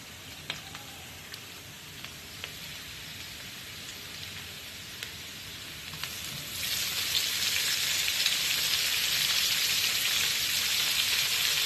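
Tomato dropped into a pan of frying guttum fish curry, setting off a steady close sizzle that swells louder and brighter about halfway through and holds, with a few faint clicks early on.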